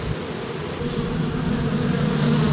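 Steady, dense buzzing hum of many bees at a Layens hive holding a recently caught swarm, continuous and close with a low drone throughout, no speech.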